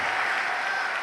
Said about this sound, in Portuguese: Isso, aplaude e glorifica, aplaude e dá glória